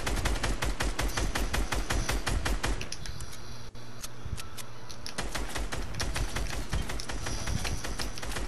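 Rapid gunfire rattles in a duos shooter video game as players shoot at trees, dense loud bursts of shots with a brief lull in the middle before the firing resumes.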